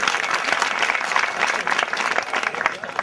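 An audience at a Gujarati devotional Kan Gopi performance in Junagadh claps steadily in dense, sustained applause that fills the space, with faint voices beneath.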